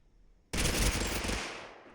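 A G18C pistol fires a fast full-auto burst in a VR shooter game, a loud, dense rattle that starts abruptly and lasts about a second before tailing off into a short echo.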